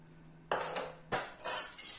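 A utensil clinks and scrapes in a bowl as egg yolk, sugar and cornstarch are mixed for pastry cream, several quiet separate knocks close up in a silent room.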